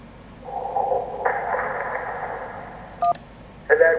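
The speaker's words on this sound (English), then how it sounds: "And that was a canoe tipping over from several miles away." Distant canoe tipping over in the video game Kentucky Route Zero, rendered as a soft droning swell that rises midway, then brief tonal bleeps and a short burst near the end, faint and far off.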